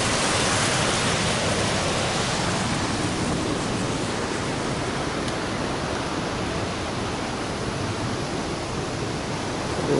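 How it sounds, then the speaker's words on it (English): Steady rushing water fills the scene, a loud, even broadband roar with no breaks or voices. "Just water running out of here everywhere."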